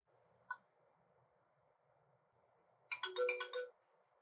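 A faint click of a cable tester's test button, then a quiet pause before a short, bright electronic completion chime of several quick stacked beeps rings out clearly after a Cat6A test.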